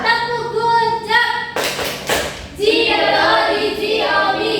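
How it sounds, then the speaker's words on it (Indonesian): Third-grade schoolchildren in a classroom chant and clap a good-job cheer together: voices sing out, then a short burst of loud group claps, then the chanting resumes. "Kita beri tepuk good job"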